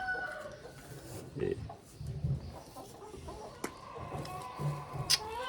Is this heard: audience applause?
no